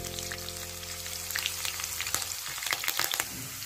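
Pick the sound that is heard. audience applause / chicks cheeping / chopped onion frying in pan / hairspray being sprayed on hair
chopped onion frying in pan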